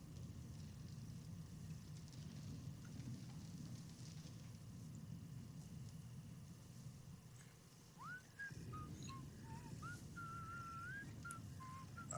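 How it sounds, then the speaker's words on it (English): An enemy character whistles a short wavering tune in the video game Atomfall, faint and thin over a steady low background hum, with brief rising notes near the end. "I can hear the guy moving around even when he isn't whistling."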